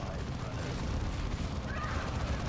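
Dense heavy gunfire and artillery roar in a sci-fi battle from the strategy game Dawn of War 2, a continuous loud rumble of overlapping shots, with voices and game chatter beneath.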